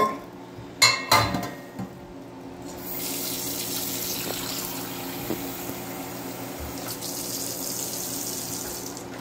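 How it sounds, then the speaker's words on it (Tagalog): Cooked noodles are drained in a sink. A few clanks of pots and utensils come first, then a steady stream of water rushes continuously at moderate loudness. "Drain the water."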